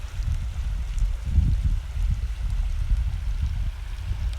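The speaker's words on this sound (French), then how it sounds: "Bien attention de sauter aussi par-dessus ce petit ruisseau." A small mountain stream on the trail up Puy de Sancy near Mont-Dore flows with a steady, low rushing burble that holds throughout, with no talk over it.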